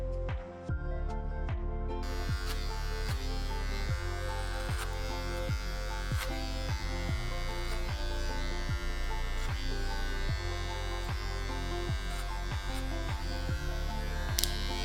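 A hair clipper fitted with a Wahl premium 1.5 guard buzzes steadily and close during a skin taper mullet haircut, a constant electric hum with faint repeated clicks and scraping strokes.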